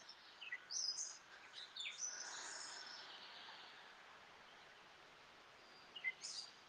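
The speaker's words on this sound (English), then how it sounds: "I just want to take a second to just appreciate these birds back here." Birds chirping and calling outdoors at a Connecticut spot with many birds, faint, scattered tweets in short bursts over a soft, steady background hush.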